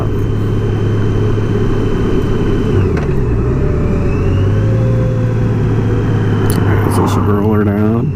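Car engine pulling in second gear during a roll-on from low revs, a steady loud drone whose pitch climbs gradually, with someone talking over it throughout.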